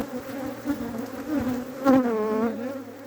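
Honey bees swarm around a beekeeper's black clothing, a close, steady droning buzz with individual bees swelling louder as they pass near.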